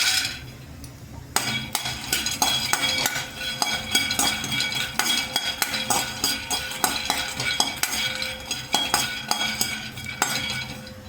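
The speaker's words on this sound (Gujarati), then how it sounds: "કઢાઈ એક ગ્લાસ ગરમ થઈ ગઈ છે, તો તેમાં સિંગના દાણા નાખી દેશું" Peanuts roast in a hot kadai, stirred with a metal utensil that keeps scraping and clinking against the pan over a soft, continuous sizzle. Nearby and steady, no talking.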